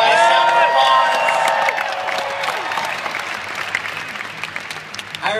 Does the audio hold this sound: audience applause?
yes